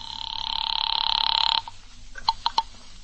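A telephone ringing after dialing in a radio drama, one long steady electronic ring tone held for about a second and a half, then several short clicks and taps up close.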